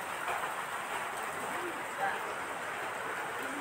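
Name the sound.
heavy rain during flooding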